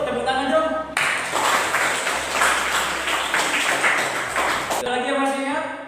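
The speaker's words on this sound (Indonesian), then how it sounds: "Tepuk tangan dong." Students clap in a classroom during an economics lesson, a short burst of dense applause between stretches of a teacher's voice.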